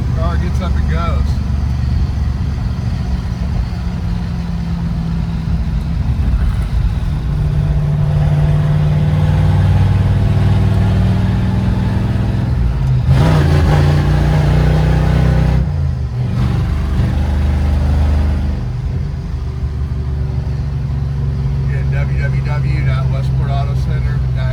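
A 1964 Ford Galaxie lightweight with a 427 R-code V8 drives along, its deep rumbling engine loud and close, swelling as it accelerates and easing off, with someone talking over the noise at points.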